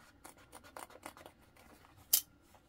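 Scissors snip through the fabric lining inside a sewn crossbody bag close to the stitch line, a series of soft, quiet crisp cuts followed by one sharper, louder snip near the end.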